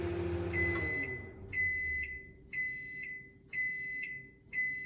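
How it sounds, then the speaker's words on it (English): A microwave oven set on high, heating a lemon curd mixture, gives a steady low hum, then sounds a run of five evenly spaced electronic beeps about one second apart. "put this mixture into the microwave, and we put it on high for 3 minutes"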